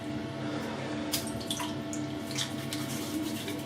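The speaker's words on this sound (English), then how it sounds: "I'm just dipping my hand in the water" A hand dips into water in a sink, giving soft splashes and a few light trickling drips over a quiet, steady background, with no talking.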